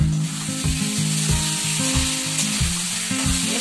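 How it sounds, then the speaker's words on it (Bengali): Spiced curry frying in a covered pan, a steady close sizzle running without pause alongside irregular low, bubbling pops and knocks from the pan. "চলুন একটু ঢাকা দিয়ে দিয়ে ভাজি,"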